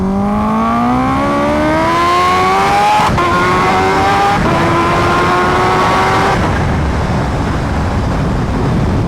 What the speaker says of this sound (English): Just a little pull, you know, like wake the H2R up a little bit